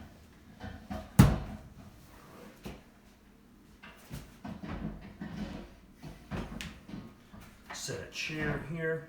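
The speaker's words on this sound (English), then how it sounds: "I'm gonna pull a chair over." A chair is pulled across the floor during a home shoulder workout, with a sharp knock followed by scattered scrapes and bumps, while a person talks through much of it.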